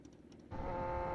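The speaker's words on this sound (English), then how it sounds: "Hopefully you can hear me over the sound of this damn motorcycle." After a brief quieter moment, a Kawasaki ZX6R sport motorcycle engine drones loudly, kicking in abruptly and holding steady with a strong tonal whine, close by.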